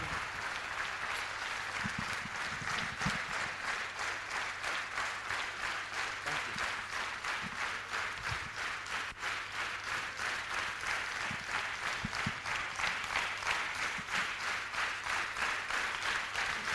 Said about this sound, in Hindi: तो ऐसी जबरदस्त सिस्टम के लिए मैं चाहूंगा एक जोरदार ताली बजा दो